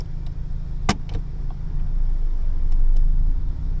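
A car on a driving lesson in Ireland pulling away gently: a low steady engine rumble that swells gradually, with a sharp mechanical click near the start.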